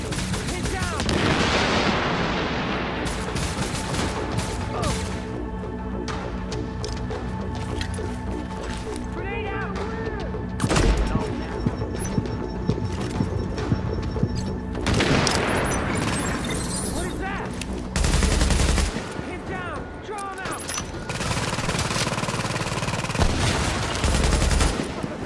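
Sniper and other gunfire in The Division, a cover-based online shooter, with sharp shots and bursts repeating over a steady bed of game ambience while several players talk throughout.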